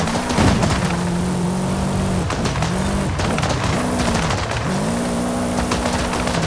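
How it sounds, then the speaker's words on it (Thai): A 2005 Subaru Impreza WRX STI pops and crackles from its exhaust in rapid bursts over a loud, steady engine drone, close up and outdoors. "โอ้โหยิงรัวครับท่อตุ๊บตับตุ๊บตับ"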